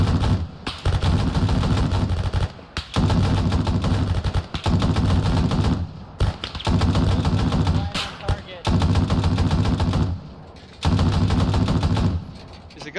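Arma 3 gunfire in a US Marines co-op battle in Takistan crackles in long, dense automatic bursts separated by short pauses, loud and close, while players talk over the shooting.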